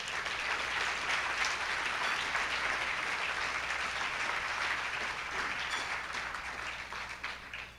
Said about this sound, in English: let's give a big round of applause as we welcome up to here Mr.